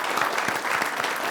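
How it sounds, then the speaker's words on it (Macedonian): A studio audience at a television talk show claps steadily, a dense, even wash of many hands at moderate loudness, with no voices rising above it. "Нова еден аплауз за Пеперминт."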